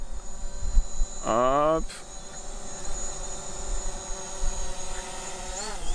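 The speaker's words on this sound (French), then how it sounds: "je vais essayer de faire venir le drone directement devant la caméra" A DJI Mavic Pro drone flies toward the camera, its propellers giving a steady high-pitched whine with a brief rising tonal sweep early on. A voice speaks one short word.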